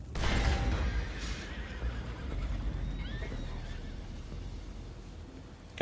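Horses neigh and whinny in a Red Dead Redemption 2 game scene aboard a boat, a loud close whinny at the start, then fainter calls and light hoof clatter amid ambient noise.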